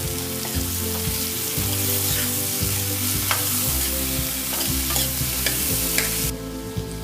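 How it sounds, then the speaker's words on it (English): Tomatoes cooking in a pan for malai kofta masala, a continuous close sizzle with frequent stirring clicks and scrapes running throughout, steady and fairly loud. "So now I'll cook this till the tomatoes get tender."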